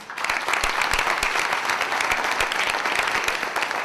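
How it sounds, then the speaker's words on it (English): A conference audience at a bank-sponsored pitch competition claps steadily and loudly, a dense wash of applause that holds throughout with no break. "let's give them all a big round of applause again"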